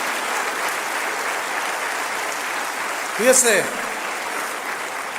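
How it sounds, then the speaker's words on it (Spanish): A church congregation claps its praise in one steady wash of applause through the whole stretch, with a voice briefly speaking over it near the end. "Denle un aplauso al Señor"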